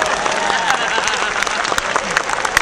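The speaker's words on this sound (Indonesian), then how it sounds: "Tepuk tangan buat kita semuanya ya." An audience at a religious talk claps together in a dense, loud, continuous burst of applause, with some sharper individual claps standing out.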